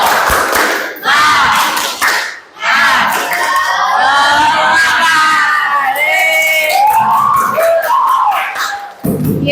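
A class of students chants the tepuk semangat clapping cheer in a classroom. Loud young voices shout in rhythm, with claps and thumps mixed in, and the chant carries on for several seconds with brief pauses.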